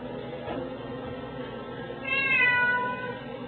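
A cat meows in a kitchen while chili with bison meat cooks, one drawn-out mid-pitched meow over a steady background of sizzling.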